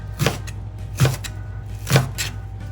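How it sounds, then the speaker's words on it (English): A knife chops food into cubes on a cutting board in a home kitchen, three distinct, fairly close knocks spaced about a second apart with a faint hum underneath. "And then when you cut down, it's in cubes."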